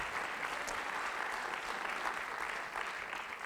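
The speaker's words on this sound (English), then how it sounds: "You're right to applaud." A crowd at a live show in New York City applauds continuously, a soft, even patter of many hands heard from some distance.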